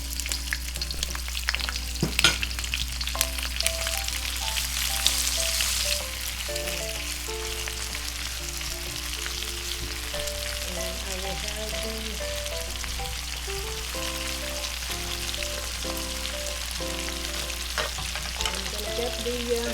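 Onions fry in a pan with a loud, steady sizzle and occasional stirring clatter, while tonal music plays throughout and a low hum sits underneath.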